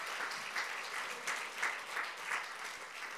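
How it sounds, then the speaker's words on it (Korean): A church congregation applauding during a revival worship service, steady rhythmic clapping from a crowd at moderate distance, slightly swelling in waves. "우리 주님께 영광의 박수 올려드리겠습니다."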